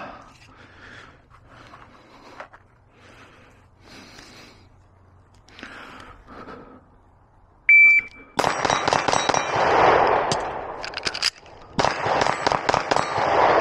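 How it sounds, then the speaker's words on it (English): Rapid Glock 26 pistol shots ringing off steel targets at an outdoor range, a tight string of sharp cracks and metallic clangs with a brief pause, preceded by quiet talk and a beep. "Alright, let's do the Glock 26."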